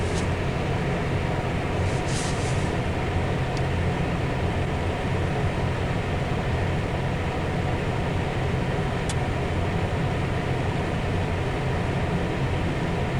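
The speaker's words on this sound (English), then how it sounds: "I already heard the train blowing its horn," Steady roar of wind and blowing snow during a lake effect snowstorm, with a train's low rumble buried in the constant broadband noise and a couple of faint brief high squeals.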